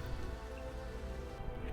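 Steady rain patters down in the gardens of Wells Bishop's Palace, a close, continuous wash of drops hitting foliage and ground, unbroken and without speech.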